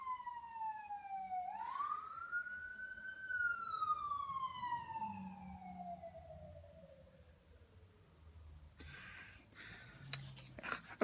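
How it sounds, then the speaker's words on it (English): A wailing siren sweeps up and down in pitch, rising then fading away as it passes, followed by faint background clatter. "the siren that you heard coming for 50 minutes"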